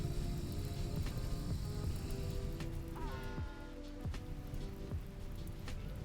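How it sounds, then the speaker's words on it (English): Steady rain patters continuously in the colony-building game Rimworld, a dense even hiss with occasional soft game tones and chimes layered over it. "It's raining."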